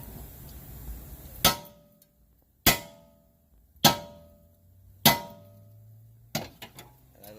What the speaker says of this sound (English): you can take a good hammer and you hit it right there, really good and hard